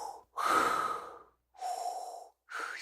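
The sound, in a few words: voice imitating Darth Vader's breathing apparatus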